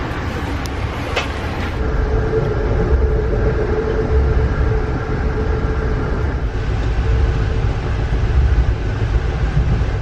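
The southbound Amtrak Vermonter passenger train rolls past Windsor station in Vermont with a steady, loud low rumble and wheel noise lasting the whole time, with a few faint clicks early on.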